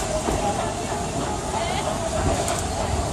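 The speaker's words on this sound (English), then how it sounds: "There are some who say that this steam train is a little old-fashioned, but for me, it's the only way to travel." The Walt Disney World Railroad steam train rolling through the Magic Kingdom, a continuous rumble of wheels and track noise with a hissing, rushing texture throughout, close and steady.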